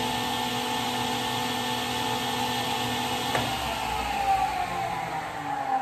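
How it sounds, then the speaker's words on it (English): A table saw runs with a steady, loud whine and a constant hum, and its tone shifts partway through. "You can pull the paddle and you have that saw turn on."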